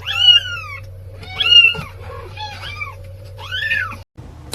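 Several cats meow loudly and close by, four separate drawn-out, wavering cries in a row with short gaps between them, over a steady low background hum and with no talking.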